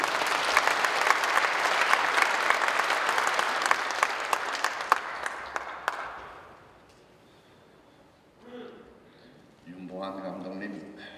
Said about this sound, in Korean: 나오실 때 우리 격려의 박수를 올리겠습니다.